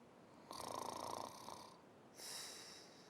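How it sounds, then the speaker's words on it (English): A sleeping woman snores in two drawn-out rasping breaths, the first longer and rougher, the second smoother, close by in a quiet room. "She is asleep. She's snoring."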